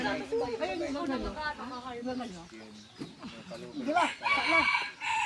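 Chickens on a free-range farm cluck and crow throughout, a rooster call standing out among busy fowl chatter, close and fairly loud, with voices talking over the birds.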